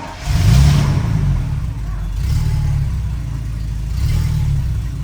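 A 1974 Jaguar XKE V12 with a 4-speed fires up from cold, catching with a quick rev and then settling into a rising and falling idle with a few more throttle blips, with people talking nearby.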